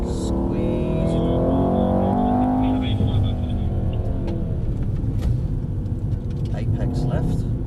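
A Mercedes engine pulling under throttle in Sport Plus mode, a loud, steady, deep roar from inside the car with a falling whine over it, while people talk throughout.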